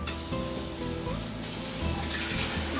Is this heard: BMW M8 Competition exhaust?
no